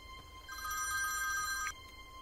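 A telephone rings once with a shrill electronic trill lasting about a second, then stops, heard over quiet room hiss.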